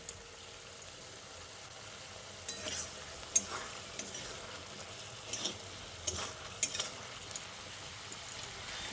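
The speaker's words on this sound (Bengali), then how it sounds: "তারপর আমি আরও একবার ভালো করে নাড়াচাড়া করে মিশিয়ে নিচ্ছি।" Spinach and potato curry stirred in a pan, soft bubbling sizzle with scattered scrapes and taps of the spoon, fairly quiet and close.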